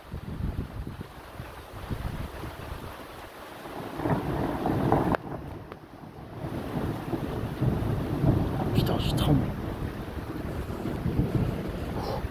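Strong thunderstorm in mid-March with icy wind: continuous rumbling thunder and heavy wind buffeting the microphone, rising in a loud swell midway and staying dense and roaring throughout, with no talk.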